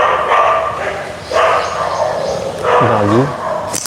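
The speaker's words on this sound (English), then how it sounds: "Why are you barking?" A dog barks and yips a few times in a loud, close burst, with a sharp rising whimper-like yelp near the end, all under steady background noise and some voice.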